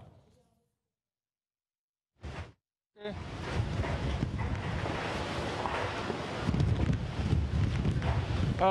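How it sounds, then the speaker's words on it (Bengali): Strong gusting wind roars across the microphone with a rushing, watery wash of rain beneath it by a river in Barishal, Bangladesh, following a brief quiet start and a short burst. "বরিশালে দমকা হাওয়া হচ্ছে এবং বৃষ্টি হচ্ছে"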